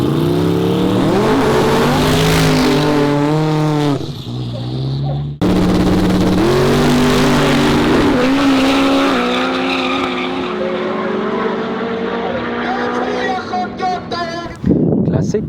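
A 1956 Chevy with a twin-turbo 427 aluminum-block engine at a street car event revs loudly up close, its harmonic engine note rising and falling through several pulls with brief drops between, while a voice talks over it.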